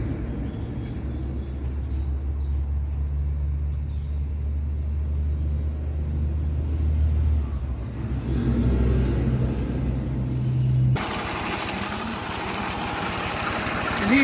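A Honda 30 outboard boat motor idles at about 1,000 RPM nearby, a steady quiet low hum and rumble that runs evenly, then gives way to a sudden burst of broadband noise near the end.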